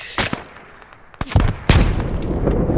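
Gunfire in the Roblox war game The Eastern War, with a few sharp shots at the start, then heavier blasts and a sustained rumble of battle noise toward the end.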